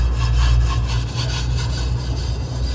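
A metal scraper is dragged back and forth across a barbecue grill in a close, continuous rasping scrape, with no voices.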